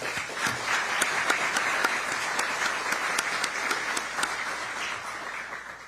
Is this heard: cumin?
no